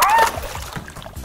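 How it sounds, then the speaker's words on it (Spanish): Water splashes and sloshes into a small toy pool, a short burst of splashing followed by lighter trickling, heard close amid a voice speaking. "Ahora te echo más agua."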